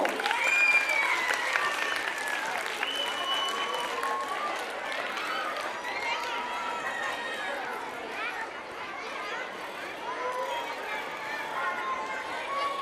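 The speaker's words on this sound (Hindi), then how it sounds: "सिर्फ तालियां, आवाज़ें नहीं," Sustained audience applause at a school annual function, a broad crackling wash of many hands clapping, with crowd chatter and a raised voice mixed in.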